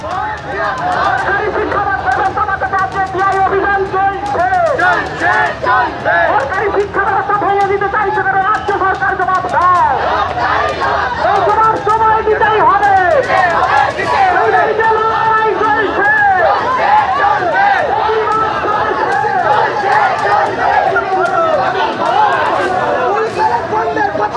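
Student protest march outside a district education office in Kasba, a large crowd loudly chanting slogans in unison, rhythmic call-and-response voices continuing unbroken and close.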